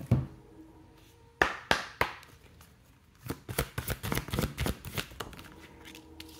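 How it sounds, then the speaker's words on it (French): Oracle cards being shuffled by hand, with a few separate riffling bursts followed by a longer run of quick, close, papery taps and slaps. "Je vais vous tirer des cartes de l'oracle de mon crush."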